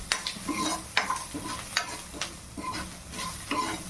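Paneer bhurji is stir-fried in a pan, with a steady sizzle under repeated scraping strokes of a spatula, about one every second, close and clear with no talking.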